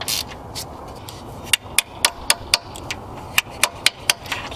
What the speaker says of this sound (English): The other one you may have to hammer in